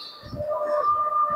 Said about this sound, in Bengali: কবুতরগুলো একটু শখ করে দেখাবো।